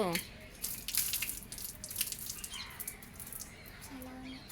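Water runs from a tap into a container at home, a steady splashing and dripping stream under a person's talking, with a bird faintly audible.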